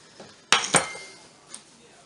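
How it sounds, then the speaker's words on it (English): A mixing bowl, just rinsed after holding apples, is handled while being dried: two sharp clinks close together, then a softer knock, with quiet rubbing between. "I just rinsed out and I'm drying the bowl that I had the apples in"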